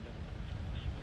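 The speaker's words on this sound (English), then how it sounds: "You can see the engines. The engines are starting." Soyuz-2.1a rocket engines igniting and ramping up toward full power at the launch of a Progress resupply vehicle, a distant, steady low rumble with a faint windy roar.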